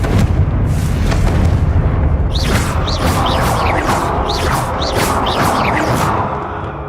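A Confringo spell explosion in the Hogwarts Legacy video game, a loud booming blast followed by a string of bright crackling, whistling bursts, dense and continuous throughout.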